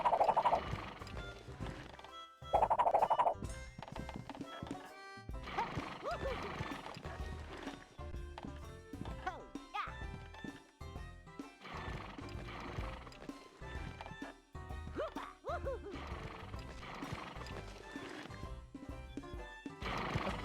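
A horse whinnies repeatedly while hooves clip-clop steadily underneath, with video game ambience from Animaniacs: The Great Edgar Hunt and a voice talking at moments.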